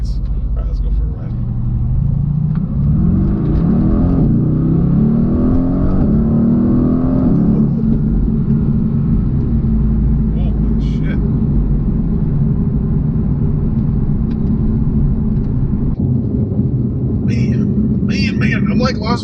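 Mercedes AMG GT engine droning low and steady while driving, rising once in a short acceleration early on, then holding a constant rumble inside the cabin; the steady drone runs throughout with a few light clicks near the end.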